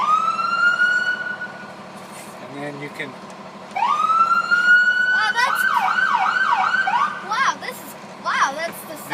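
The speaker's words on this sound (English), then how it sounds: "sit in the driver's seat and blast the sirens" A fire truck siren blares from the driver's seat in a station driveway, repeatedly rising into a loud wail and then cutting into rapid warbling yelps, with people talking briefly between blasts.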